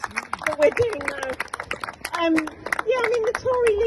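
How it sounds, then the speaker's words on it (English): A crowd at a Stand Up to Racism event in Acton claps for the Care for Calais charity, scattered hand claps running under voices and cheering for the whole stretch. "big round of applause for Care for Calais and our vote of thanks"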